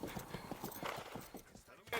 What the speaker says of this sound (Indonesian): dengan kuda-kuda gagah mereka berangkat ke divisi masing-masing, mengemban tugasnya menembus kabut malam